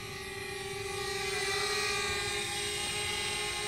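A DJI Spark drone flying close by, its small propellers giving a steady high-pitched whine with a strong tonal hum, continuous and loud throughout with no talking.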